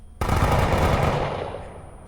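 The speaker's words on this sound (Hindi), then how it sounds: "इतनी फायरिंग क्यों कर रहे हैं?" Sudden heavy automatic gunfire erupts during a mall hijack scene in the film Beast, a loud, dense, rapid burst that begins abruptly and slowly tapers off toward the end, with no voices over it.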